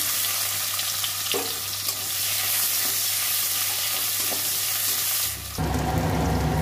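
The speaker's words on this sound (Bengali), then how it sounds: "পেঁয়াজটা ভাজা হয়ে গেছে" Onion frying in a pan alongside fried fish and whole cumin gives a loud, continuous sizzle with light stirring scrapes, then a sudden surge of hissing near the end.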